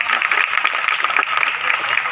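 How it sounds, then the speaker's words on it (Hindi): An audience at a national poetry gathering (kavi sammelan) claps at length in a dense, even patter, loud and continuous, with no voices over it. "और एक बार जोरदार तालियां बजा दीजिए।"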